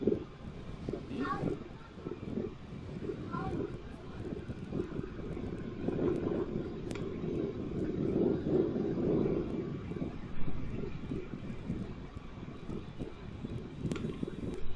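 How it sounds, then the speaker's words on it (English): An Airbus A380 aborts its landing and goes around, its jet engines a distant, wind-buffeted roar that swells and rumbles beneath steady talking. "This A380 aborted landing at the last minute."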